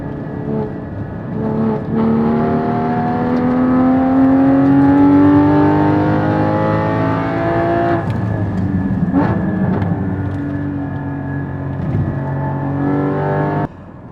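A Porsche 981 GT4 drives on a track, its engine and exhaust droning loudly and close as it accelerates, the pitch rising steadily, then falling and climbing again through shifts before dropping off at the end.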